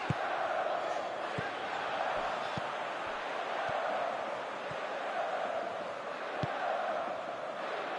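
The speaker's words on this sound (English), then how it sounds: "Crowd calling for him to shoot." Stadium crowd in a PS4 football video game, a continuous broad roar of cheering fans swelling slightly, with scattered thumps and kicks from play punctuating it, and no clear talk over it.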